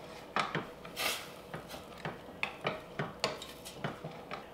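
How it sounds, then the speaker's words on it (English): Coconut milk and chickpea rice are stirred in a pot, with a spoon scraping the bottom in a close, steady rhythm of about a dozen rasping, clinking strokes. "you want to give it a good stir, make sure that nothing is stuck on the bottom"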